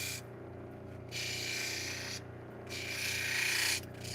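A flint cabochon is ground on a polishing wheel, with a close, steady abrasive rasp that swells louder in two long passes between quieter stretches of motor hum.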